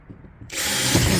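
A drill bores a starter hole into a plywood corner, a loud close whir that starts abruptly after a short quiet moment and keeps running at a steady level.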